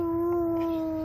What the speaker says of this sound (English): Are you howling at the moon?